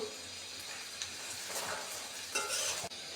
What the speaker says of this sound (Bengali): পেঁয়াজগুলোকে এরকমভাবে ভেজে দিতে হবে